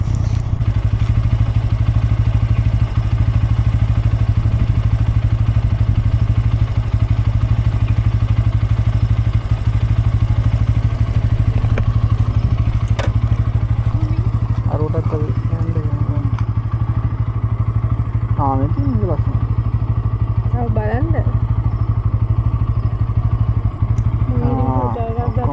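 A motorcycle ride on Vesak Poya day, with a steady loud engine drone and wind rumble running throughout, some clatter and bumps, and a few faint voices partly buried under the noise.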